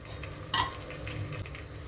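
A spoon stirs chilli and coriander powder in a pan while cooking egg biryani. There is one sharp metallic scrape against the pan over a soft continuous sizzle, heard close and quiet with no talking.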